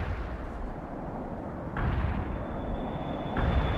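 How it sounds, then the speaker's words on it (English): Artillery barrage in the World in Conflict video game, a continuous heavy rumble of distant shelling that jumps louder with fresh blasts partway through and again near the end. "Requesting Giga artillery"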